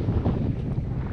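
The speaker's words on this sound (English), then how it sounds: "It's blowing a gale and up with the wet and all that." Gale-force wind in a Cornish blizzard roars and buffets the microphone in a brief, loud, rumbling gust.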